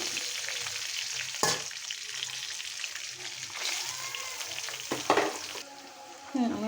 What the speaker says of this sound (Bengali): আমি এই তেলেই পেঁয়াজটা দিয়ে দিব।